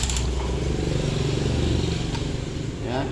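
A Suzuki Smash motorcycle engine runs after a kick-start, a close, loud, rattling putter with a rough mechanical clatter, briefly rising then settling.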